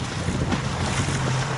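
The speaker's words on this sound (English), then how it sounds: "a little bit of white caps, a little bit of wind, not too bad" Steady wind buffets the microphone on a fishing boat at sea off Daytona Beach near an inlet, with waves and light whitecaps washing past the hull in a continuous rush and no voices.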